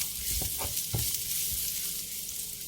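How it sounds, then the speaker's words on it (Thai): Garlic sizzles in hot oil in a wok, a steady hiss broken by a few soft scrapes and knocks of stirring near the start, close and with no voices. "ใส่น้ำมันลงไปค่ะ แล้วก็ใส่กระเทียมนะคะ ลงไปผัด ใส่กระเทียมลงไปผัดให้หอมเลยค่ะ"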